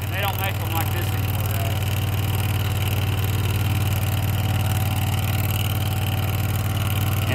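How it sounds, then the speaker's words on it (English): A 20-year-old, 1,200-pound zero-turn mower with a blown-out muffler and missing baffles runs loud and close. Its rough, throaty drone holds steady and unbroken throughout. "sorry that it's so loud. It's blowed the muffler out, blowed some baffles out"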